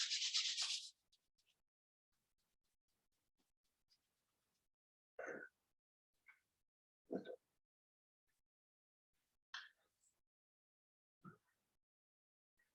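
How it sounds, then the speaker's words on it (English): Hands rub together during a chair yoga session, giving one brief burst of brushing friction followed by a few short, scattered, soft rubbing swishes separated by long quiet gaps. "Rub your hands together, take out."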